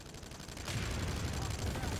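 Gunfire in a first-person shooter game as a light assault player fires with a teammate at an enemy MAX suit; a dense, continuous clatter of shots that swells louder partway through, with no one talking.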